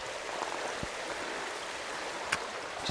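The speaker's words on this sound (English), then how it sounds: "This is the Holston River." The Holston River flows along the Appalachian Trail, heard as a steady, broadband rush of moving water. The wash is moderately loud and continuous, with one or two faint knocks and no voices.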